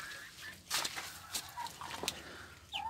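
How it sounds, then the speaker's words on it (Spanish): Hens and small chicks in a backyard coop cluck in short, scattered bursts, near and fairly quiet, with a brief higher chirp near the end. "están los pollitos esperando que los deje salir"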